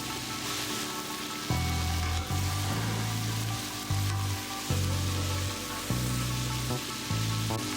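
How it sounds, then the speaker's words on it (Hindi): Chicken seasoned with ginger, garlic, black pepper and salt fries in a pan for yakhni pulao, giving a steady close sizzle with a faint stirring texture and light background music underneath. "अब चिकन को थोड़ी देर फ्राई करें ताकि अदरक और लहसुन का कच्चापन निकल जाए।"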